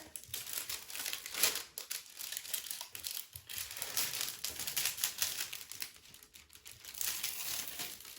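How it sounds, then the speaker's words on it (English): Adhesive protective layer being peeled back from a diamond painting canvas, a continuous close crinkling and crackling of plastic film with small irregular tearing bursts throughout. "a little easier way of doing things is to simply peel back the adhesive layer"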